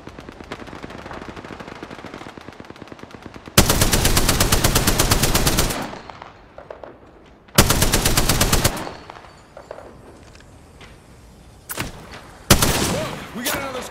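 Loud machine-gun fire in a video game, long sustained bursts broken by short pauses, with scattered single shots and faint speech between volleys.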